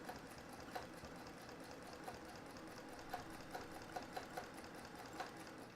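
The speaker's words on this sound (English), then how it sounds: "a simple straight stitcher like I have" A straight-stitch sewing machine quilts steadily, its needle stitching in a fast, even mechanical rhythm with light periodic ticks; no voices.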